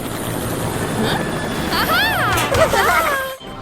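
A helicopter in a Polish children's rescue cartoon whirs steadily and loudly, with swooping whistled tones layered over it and a sudden cutoff near the end, while voices speak over it.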